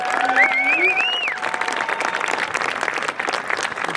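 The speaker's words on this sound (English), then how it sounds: "can we give all of our musicians and performers another round of applause?" A crowd applauds the musicians and performers at a high school graduation ceremony, loud continuous clapping throughout, with a brief whistle-like tone near the start.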